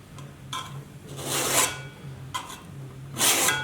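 A cabinet scraper clamped in a vise is filed with a half round file: about four loud, close rasping strokes with brief pauses between them and no talking.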